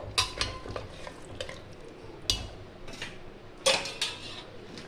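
A pressure cooker for mutton jhol clanks onto the stove amid several sharp metallic knocks and pan clatters spaced through the moment, with a faint sizzle beneath and no talking.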